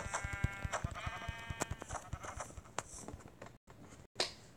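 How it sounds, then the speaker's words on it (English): Sheep in Minecraft bleat a couple of times close by, short wavering calls over a quick patter of footsteps. "sheep right here."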